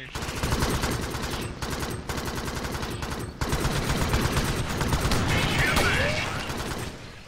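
An automatic gun turret fires in the video game Alien Swarm, a loud dense rattle of rapid shots running almost continuously, broken only by brief pauses, over game effects.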